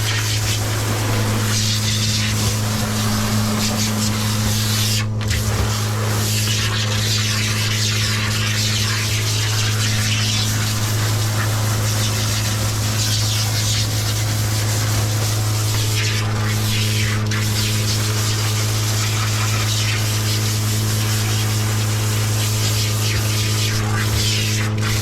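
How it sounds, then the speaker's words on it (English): A diluted flea treatment is sprayed steadily onto a Cavoodle dog during grooming, a continuous hissing mist heard close and loud over a constant low mechanical hum for the whole stretch, with brief interruptions. "So what I sprayed on her is like a dilution"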